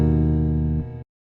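A bass guitar plays a jazz lick over chord changes, a short sustained run of clean, resonant low notes close and alone that shifts pitch near the end before stopping abruptly into silence.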